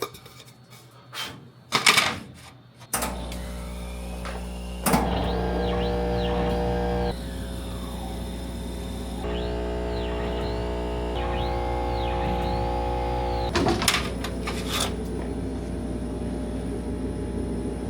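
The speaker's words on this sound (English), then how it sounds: "let's jump in and do a test cut." A CO2 laser cutter with a freshly replaced tube runs a test cut, its motion system whirring and stepping in looping tonal sweeps over a steady low pump hum, with a few sharp clicks at the start and end.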